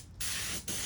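Spray gun laying clear coat on a Lexus IS250 rear diffuser, two close, steady hissing bursts split by a short pause, loud and alone.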